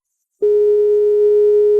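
A phone line cuts to a busy tone after a call is hung up. After a short silence a loud, steady electronic tone starts abruptly and holds unbroken for about a second and a half, close and clean.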